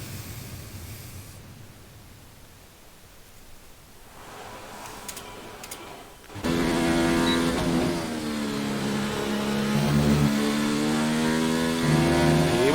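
Mercedes Formula 1 car at Silverstone in F1 2019: quiet hiss and faint idle at first, then the engine fires up loudly into a sustained harmonic whine that climbs and shifts with revs.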